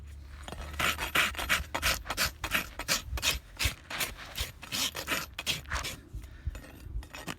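A loop knife scrapes across dry material in a steady series of short, rasping strokes, close and fairly loud, with no talk.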